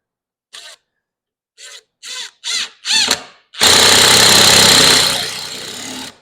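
A power driver sinks a TimberLOK screw into wood, first with several short trigger bursts that whir up and stop, then one long continuous loud spin that eases off at the end.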